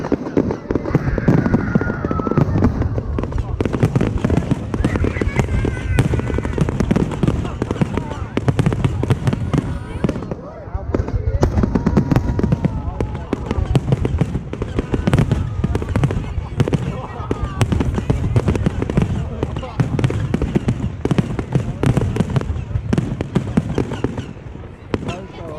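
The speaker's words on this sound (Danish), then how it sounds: "Det er verdensklasse fyrværkeri." A large fireworks show bursts continuously, with dense, rapid booms and crackling explosions over about twenty-five seconds, loud and near, while people talk in Danish over the display.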